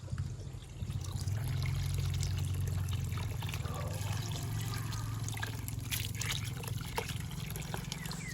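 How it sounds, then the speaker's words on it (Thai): Duckweed is swished and rinsed in water, giving a continuous close sloshing and trickling with splashy bursts and drips, fairly quiet overall. "เราจะล้างสักสองสามน้ำจนกว่าจะสะอาดนะคะ"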